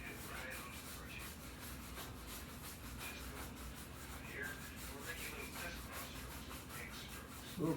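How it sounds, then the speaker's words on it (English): Two-inch Bob Ross brush rubbed in quick crisscross X strokes over canvas, a steady dry scrubbing texture that runs continuously at low volume, with a brief louder knock near the end. "little crisscross strokes, little X strokes as he likes to call them."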